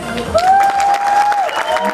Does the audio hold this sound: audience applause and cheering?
yes